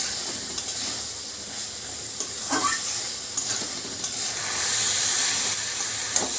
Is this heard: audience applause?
no